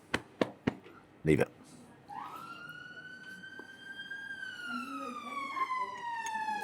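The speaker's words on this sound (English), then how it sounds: "That's the ambulance coming for me already" A few sharp knocks, then a siren rises and holds a long wailing tone before slowly falling away, moderately distant.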